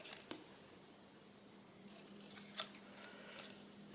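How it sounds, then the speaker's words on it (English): Small scissors snip across the corners of a recycled slide mount, giving a few faint, crisp cuts spaced apart against quiet room tone. "What I'm also going to do with a small pair of scissors is go across corners like that"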